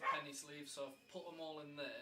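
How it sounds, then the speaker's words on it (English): Small dogs bark and yip in short bursts while a person keeps talking over them, the barking close and persistent in a home setting. "The dogs are probably going a little bit crazy"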